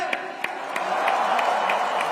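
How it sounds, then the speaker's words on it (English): An audience applauds the women cricketers at a gathering of cricket legends at Wankhede: a soft wash of crowd clapping punctuated by a few sharper, evenly spaced claps, with no voices over it. "Let's have a good round of applause for the women cricketers."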